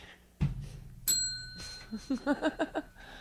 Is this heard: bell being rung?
yes